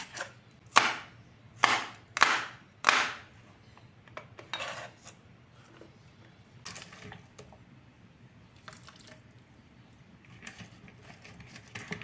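A knife chops spring onions and coriander sharply on a board in a quick burst of about five strokes, followed by quieter scattered taps and clinks.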